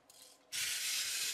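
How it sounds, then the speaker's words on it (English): A small wind-up robot pencil sharpener grinding a pencil, giving a steady dry rasping hiss that starts abruptly after a brief softer scrape, close and fairly loud with no talking. "So, sharpens the pencil"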